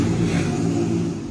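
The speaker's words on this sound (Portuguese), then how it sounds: "Racha de motos." Motorcycles racing, with a loud, continuous mid-pitched engine roar and revving that holds steady, then eases slightly toward the end, with no talking.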